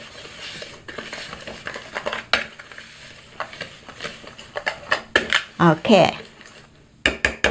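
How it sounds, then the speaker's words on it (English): Dry ingredients for vegan walnut cookies, including aluminum-free baking powder, being mixed in a bowl: scraping and clinking strokes of a utensil against the bowl, irregular and growing louder, with a brief spoken word. "Now we're gonna mix it thoroughly."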